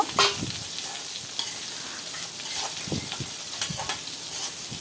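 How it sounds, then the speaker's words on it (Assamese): A continuous crackling sizzle of fish frying in hot oil in a pan, with occasional soft stirring clinks underneath. "মাছখিনি ধুনীয়াকৈ ভাজি লৈ আছোঁ"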